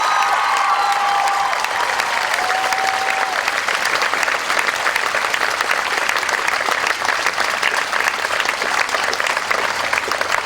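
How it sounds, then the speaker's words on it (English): A large school audience applauds the chaperones at a Winter Wonderland show. The clapping is dense and continuous, loud and sustained for about ten seconds, with no pause. "massive round of applause for every single chaperone."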